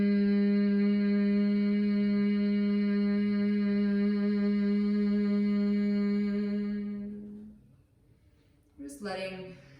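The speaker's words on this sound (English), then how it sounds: "This humming sensation," A steady, resonant hum from a voice holds for several seconds on one low pitch, then fades away with the exhaled breath, followed by a brief soft breathy sound.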